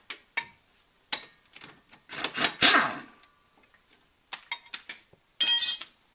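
A wrench works the sway bar end link bolt on a G35 during a coilover install. Sparse metallic clicks, ratchet ticks and clinks come in short bursts with quiet gaps, close up and with no talking.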